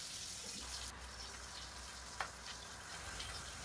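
Onions, green chillies and curry leaves fry in hot oil for sambar with a faint, steady sizzle close by and a single soft clink partway through.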